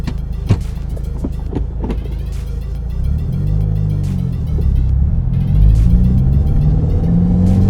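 A 2015 Subaru WRX running a Cobb Accessport tune drives off, its engine rumble rising and falling through gears, with a few sharp clicks early on and a steady, loud interior drone.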